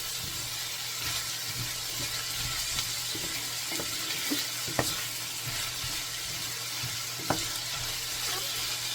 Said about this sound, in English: So I'm gonna let this fry up